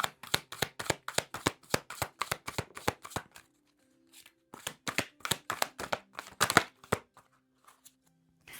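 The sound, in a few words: shuffling and drawing archangel tarot cards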